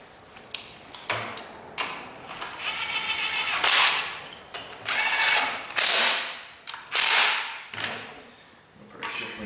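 A hand ratchet tightens bolts on a Chevy/GMC 2WD truck transmission, with repeated bursts of rapid clicking strokes, close and crisp, separated by short pauses.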